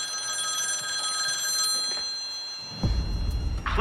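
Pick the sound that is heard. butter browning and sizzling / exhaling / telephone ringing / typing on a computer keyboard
telephone ringing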